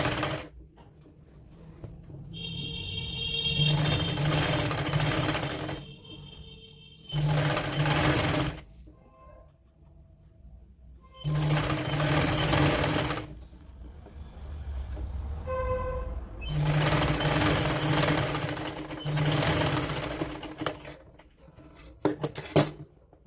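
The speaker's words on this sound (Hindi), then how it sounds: "कपड़े को इस तरह फोल्ड करना है और यहाँ सिलाई डालनी है हमने" A sewing machine stitches a woollen kurti in four or five close, loud bursts of steady whirring, each a few seconds long and separated by short pauses, with no talking.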